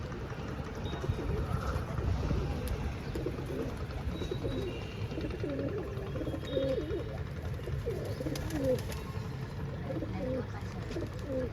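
Soft, repeated cooing of pigeons over a constant low rumbling background, several birds calling intermittently throughout.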